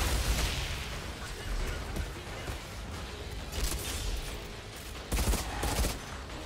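Sniper rifle fire in the video game Outriders, a few heavy booming shots mixed with other gunfire and battle noise, loud and dense throughout with a voice faintly underneath.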